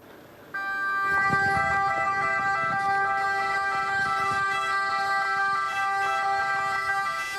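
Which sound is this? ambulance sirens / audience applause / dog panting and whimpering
ambulance sirens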